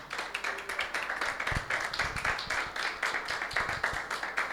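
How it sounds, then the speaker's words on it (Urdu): A church congregation claps together in a steady rhythmic beat, moderately loud and continuous, with faint voices underneath. "یسوع مسیح کے لیے تالیاں بجائیں."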